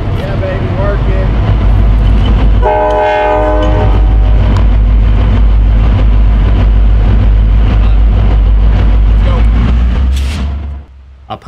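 A freight train entering yard limits on the Chicago South Shore line rumbles steadily past up close, with a loud multi-tone horn blast early on and a constant low roar until it fades near the end.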